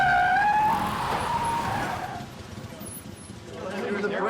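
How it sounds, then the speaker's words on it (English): A car's brakes screech as its tires skid, a loud, wavering tire squeal that fades over a couple of seconds into rumbling road noise and then rises slightly again. "The brakes are great on that car."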